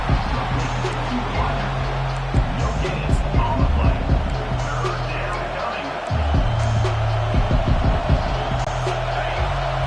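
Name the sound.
football stadium crowd cheering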